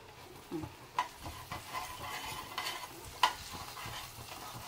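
Brinjal fry being stirred in a pan with oil, soft scraping stirs and scattered light taps over a faint sizzle, quiet and close with no talking.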